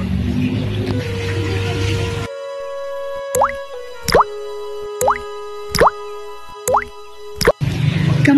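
Water drips fall one by one in a slow, even rhythm: about six clear, hollow plops with ringing tones, set in a quiet gap between louder background sound.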